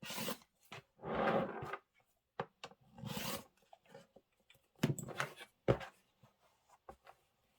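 Fabric for a Kimberbell table topper is cut to size with several separate rasping, scratchy strokes in short bursts, each lasting about a second, with small taps and handling noises between them close by.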